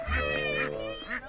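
Ducks quack and honk close by in a short, loud burst of overlapping calls.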